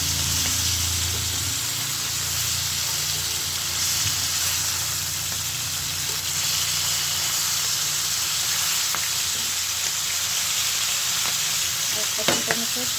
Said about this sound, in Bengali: আর এক পাশ উল্টো দিয়ে ভেজে নেবেন।